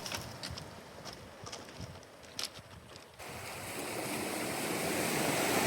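Waves wash over a blue cobblestone beach in the St. John Virgin Islands, with a steady roar of surf and wind that grows louder and fuller partway through and carries no voices.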